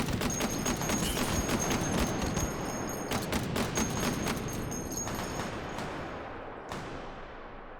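An Mk19 grenade launcher in the VR shooter Hot Dogs, Horseshoes and Hand Grenades fires a rapid, loud burst of booming automatic shots that runs for several seconds, then thins to a few scattered reports and fading echoes.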